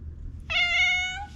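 An indoor cat lets out a single drawn-out meow, close and clear, lasting under a second in a quiet room.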